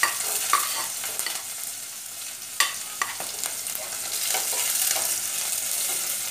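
Onions fry in a pan with a steady broadband sizzle, broken by a few sharp scrapes and clacks of stirring, close by and fairly quiet with no talking.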